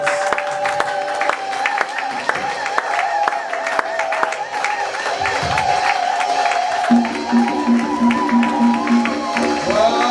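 A church congregation acclaims and cheers in worship, a steady crowd roar with scattered clapping and voices sustained throughout, with instruments playing underneath.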